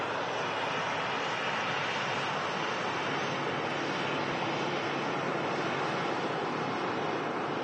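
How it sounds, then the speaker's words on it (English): Ryanair airliner arriving from Berlin taxis toward the gate at Manchester Airport, giving a steady, even jet engine whine and roar with no break. "Ryanair that just arrived in from Berlin is on its way to the gate now."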